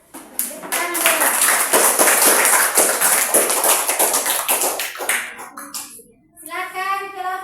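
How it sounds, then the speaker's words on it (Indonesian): Classroom applause after a group presentation in a history lesson, dense clapping from many students for about six seconds, then a short gap before a voice speaks. "Tepuk tangan dulu."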